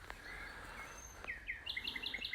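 Nightingale on the Suffolk coast singing a series of varied whistles and rapid repeated chirping notes, faint and somewhat distant over a low background hum, with no voices.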